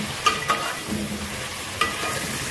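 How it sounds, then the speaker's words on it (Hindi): Gosht (meat) frying in oil with browned onions for aloo gosht, a steady close sizzle broken by a few sharp scraping stirs of the spoon. "गोश्त मैं फ्राई कर रही हूँ, ये हमारा गोश्त फ्राई हो रहा है अभी"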